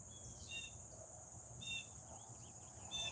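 Outdoors, a cricket keeps up a faint, steady high chirping, with a few soft bird chirps popping up now and then.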